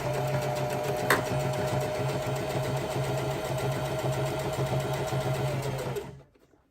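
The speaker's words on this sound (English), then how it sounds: "I'm just gonna sew straight all the way along" A sewing machine stitches a straight seam through ribbon skirt fabric, running steadily for about six seconds with a continuous mechanical hum and rapid needle rhythm, then stops.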